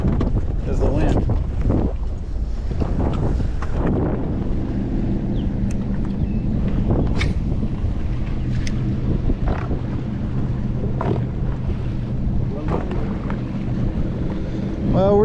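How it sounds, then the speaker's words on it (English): Wind buffets a microphone on a bass fishing boat, a steady rough roar throughout with scattered knocks and clatter; a voice briefly talks over it. "I couldn't hear it because of the wind."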